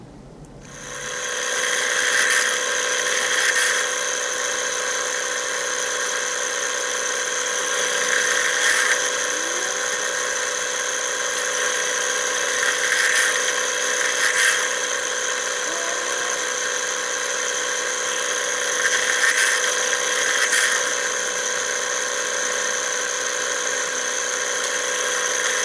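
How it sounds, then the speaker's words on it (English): A power tool countersinks small metal wing clips for a 1917 Sopwith Camel build, giving a steady, close, high-pitched whine with slight rises and dips in pitch through the whole run and no voices. "And then I'm on to countersinking."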